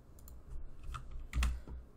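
Keys tapped on a computer keyboard while configuring a honeypot in Kali Linux, a short burst of soft clicks with one louder cluster of thumps, quiet and close.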